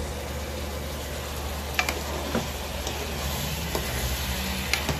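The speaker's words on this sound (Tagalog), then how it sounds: "Mix lang po natin." Beef adobo with potatoes, made with Sprite, sizzles steadily in a pan while a spoon stirs it, with a few soft scrapes and clinks standing out over the continuous close-up frying hiss.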